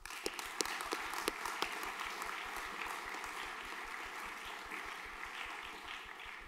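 Audience at a junior graduation ceremony claps in steady, moderately distant applause, with a few sharper nearby claps standing out early on.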